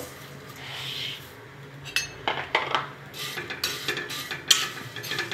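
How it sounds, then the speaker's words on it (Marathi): A spoon scrapes and clinks against a steel kadai while vermicelli roasts in oil, giving irregular metallic stirring taps over a soft sizzle. "आपण आता त्या तेलावर शेवया भाजून घेऊ"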